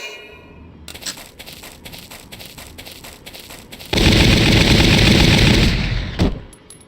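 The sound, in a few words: Gatling beam firing in the video game Valkyria Chronicles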